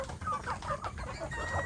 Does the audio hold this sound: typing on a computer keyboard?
no